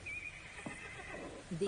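A horse neighs, a high wavering whinny at moderate distance, followed by a few softer snorting sounds against light background noise.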